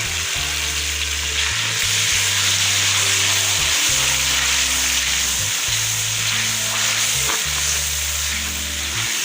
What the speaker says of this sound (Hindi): अब इसमें मैं टमाटर डाल दूँगा।